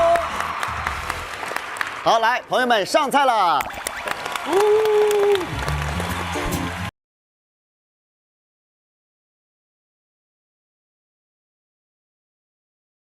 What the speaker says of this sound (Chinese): 来，掌声！